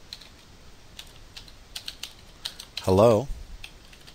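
Rapid, close computer keyboard typing while entering code, a quick run of light key clicks with a brief spoken word partway through.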